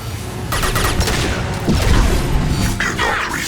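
Heavy gunfire and booming impacts in a sci-fi shooter video game, a dense, loud barrage of shots and crashes overlapping throughout.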